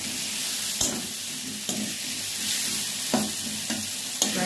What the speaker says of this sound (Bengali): ফ্রাইটা করছি